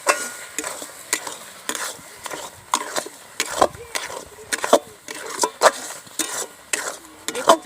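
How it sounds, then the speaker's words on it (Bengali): Amla is stirred with sugar in a pan until the sugar melts, with repeated scraping and knocking strokes of a utensil against the pan in an uneven rhythm and a faint sizzle underneath. "এবার খুব ভালোভাবে আমি নাড়বো যাতে চিনিটা গলে যায়।"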